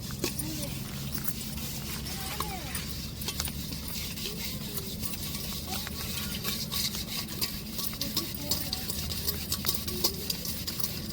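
Repeated rough scrubbing with ash against a metal pot with burnt-on residue, a steady gritty rasp close by, with the hiss of heavy rain outdoors underneath.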